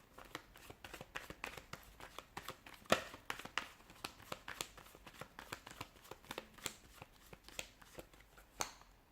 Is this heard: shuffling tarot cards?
yes